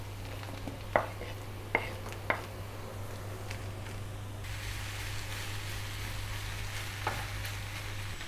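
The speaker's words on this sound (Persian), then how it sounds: "خب حالا قارچا رو اضافه میکنم." Mushrooms sizzle steadily in a hot pan, with a soft constant frying hiss that brightens midway and a few sharp taps of a utensil against the pan; no one speaks.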